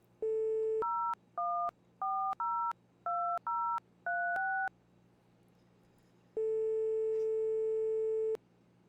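Telephone keypad dialing in the video game My Winter Car: a rapid series of about ten short two-tone beeps in an uneven rhythm, a pause, then one long steady tone, clear and close with no talk.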